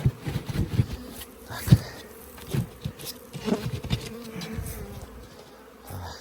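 Honeybees buzzing in a busy flight around beehives in an apiary during spring cleansing flights, a dense, steady insect drone with individual bees passing close to the microphone and no talk.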